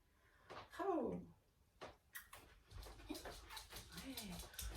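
A dog gives a high, wavering whine during an obedience training session, followed by quieter yips and shuffling movement nearby, with faint sounds of a handler around it.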